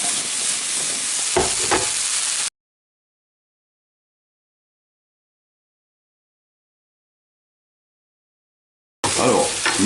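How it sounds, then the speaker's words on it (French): Apple quarters sizzle and hiss in a hot frying pan with a few stirring clatters; the sound cuts out to complete silence for several seconds, then the sizzling returns. "passer mes pommes à la poêle"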